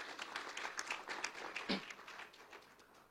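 A church congregation at a Sunday worship service claps together in praise, a fairly faint, rhythmic patter of hands over about three seconds, with a brief voice breaking through midway.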